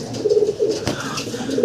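A high flyer pigeon coos softly several times in a home pet setting, the low rolling coos near and clear, broken by a brief thump.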